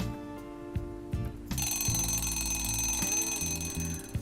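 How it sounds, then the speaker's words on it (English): A loud, continuous electronic morning alarm clock ringing with a dense, shrill buzzing tone that starts abruptly after a brief quieter lead-in and persists steadily, heard alone without talk. "We wake up in the morning at the sound of the alarm."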